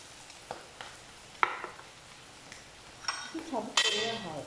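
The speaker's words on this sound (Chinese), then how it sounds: "再给它煎一煎。" An egg is pan-fried with long beans and minced pork. Quiet clinks and scrapes of a utensil against the pan rise into a louder burst of sizzling and stirring near the end.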